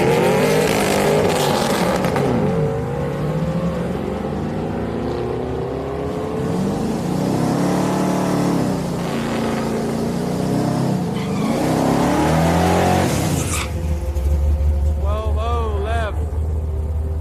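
Race car hot lapping at Houston Raceway Park during a Friday street night, engine roars rising and falling as cars pass, loud and continuous with voices talking over it.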